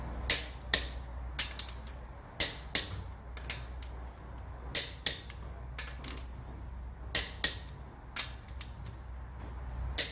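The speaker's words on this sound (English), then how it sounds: "we've adjusted our torque wrench to 100 foot-pounds, and we're going to tighten them in a star pattern" Torque wrench set to 100 foot-pounds tightening the wheel lug nuts on a 2013 Ford Escape in a star pattern: repeated sharp clicks and ratchet creaks in small clusters, close and fairly loud over a low steady hum.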